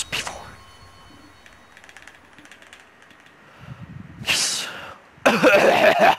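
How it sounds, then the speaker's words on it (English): A person coughs in a few short harsh bursts, one near the start and stronger ones toward the end, over a quiet background with faint clicking. "Oh, I cough so much."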